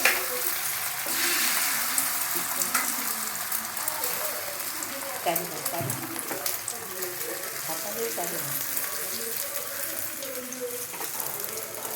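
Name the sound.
egg frying in oil on a tawa griddle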